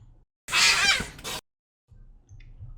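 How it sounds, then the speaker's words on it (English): Cats fighting, one loud, harsh yowling screech burst that cuts off suddenly, followed by quieter low sounds. "my cats just decided to have a huge fight"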